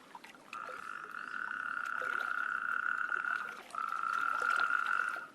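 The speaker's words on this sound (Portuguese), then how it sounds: "o que permite que os sapos corredores, entre outros, comecem a coachar" Natterjack toads croaking, a sustained rolling trill that runs steadily for several seconds, breaks briefly, then resumes, moderately close over a quiet outdoor background with no talk.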